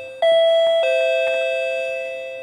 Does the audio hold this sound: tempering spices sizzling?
no